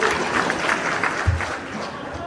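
A crowd at a political speech bursts into applause, steady massed clapping for a couple of seconds, moderately loud with a faint murmur of voices underneath.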